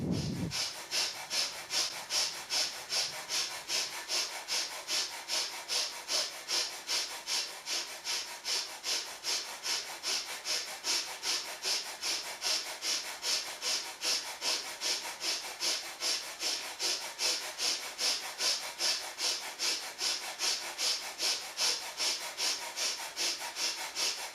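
Rhythmic rapid breathing during a Kundalini yoga exercise, a steady series of quick forceful breaths through the nose, close and even in pace, continuing without talk.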